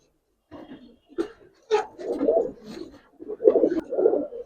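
Giribaz pigeons coo in a loft in soft, low, throaty bursts, close by and repeating irregularly.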